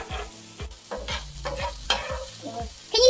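Ackee and saltfish sizzles in a frying pan while a utensil scrapes and stirs in repeated strokes, close and fairly loud.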